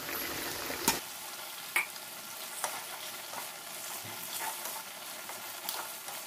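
A fish head and spices fry in a pan with a continuous close sizzle. Occasional sharp clicks and scrapes of stirring break through.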